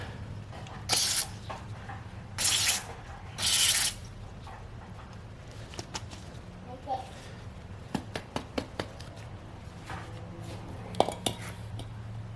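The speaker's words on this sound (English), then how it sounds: "We're gonna spray some brake cleaner" Brake cleaner sprayed onto secondary valve body parts from a 9th gen Honda Accord, three loud hissing bursts early on, followed by scattered clinks of metal parts and quiet speech.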